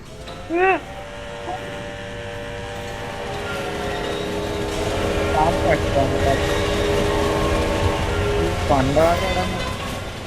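A train in the Roblox video game rumbles past with a steady rolling drone and a short horn blast near the start, more tones rising later, while people talk over it.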